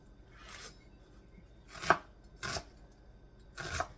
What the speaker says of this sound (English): I'm going to chop up this whole onion